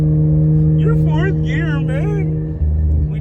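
A car cruising in fourth gear, heard from the cabin as a steady, loud engine hum and drone while voices talk over it.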